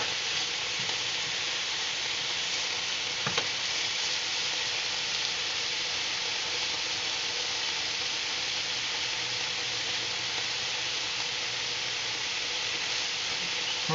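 Pork chops cook in a pan, giving off a continuous, even sizzle at moderate level with one faint tap around three seconds in and no speech.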